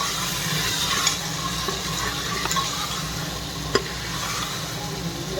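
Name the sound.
potatoes added to a pressure cooker, frying and stirring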